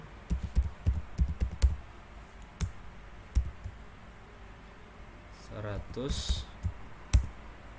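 Computer keyboard typing SQL commands, bursts of sharp close key clicks in an irregular rhythm with pauses between, while a voice talks over part of it.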